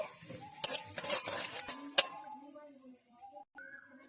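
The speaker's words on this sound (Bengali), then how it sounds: "কড়াইতে শুকনো লঙ্কা আর জিরে দিয়ে দেব কালো জিরে ফোড়ন দিয়ে নেবো" Dry red chillies and black cumin (kalo jeere) sizzle as they temper in hot oil in a kadai for a Bengali thor bori ghonto. A spoon clatters sharply against the pan and a soft hiss fades as a voice murmurs.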